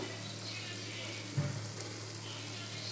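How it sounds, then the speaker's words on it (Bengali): Ghee melts and sizzles in a hot pan, a steady soft frying hiss with a brief clink of a utensil midway, close and gentle. "এটা একটুখানি গলে যাওয়ার অপেক্ষা করছি আমি গলে গেলে এটার সঙ্গে মিশিয়ে দেব"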